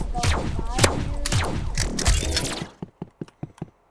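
Mechanical clacks and clicks from an exo gun's inspect animation in the Roblox game Rivals: dense metallic rattles and snaps for over two seconds, then a handful of sharp, evenly spaced clicks as it settles.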